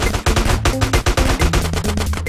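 Gunfire in the video game GTA: a close, loud rapid burst of repeated shots firing in quick succession, one after another.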